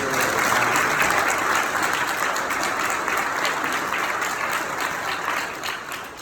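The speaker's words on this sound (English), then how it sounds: "give her a round of applause" Applause from an audience at an MLK commemorative service, dense sustained clapping that stays loud and close before tapering slightly at the end.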